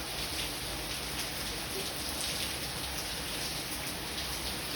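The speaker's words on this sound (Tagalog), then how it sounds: "Sobrang tagal na ng ulan na to." Heavy, steady rain pours down continuously in Dubai, a dense hiss of drops drumming on surfaces with no voices.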